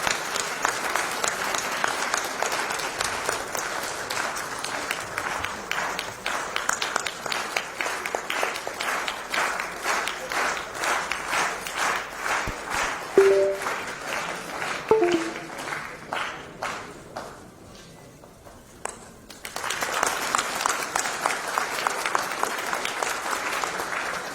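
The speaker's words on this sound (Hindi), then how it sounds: "जोरदार ताली के साथ स्वागत करें।" Audience applause welcoming the chief minister at a live Bureau of Indian Standards foundation day quality conclave, sustained loud clapping from a large crowd that dips briefly near the end before swelling again.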